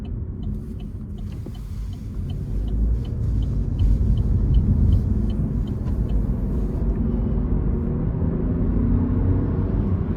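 A 2024 Chevrolet TrailBlazer LS AWD's 1.3-liter turbo three-cylinder engine pulls under acceleration, a steady low rumble heard from inside the cabin with faint ticking above it and no talk.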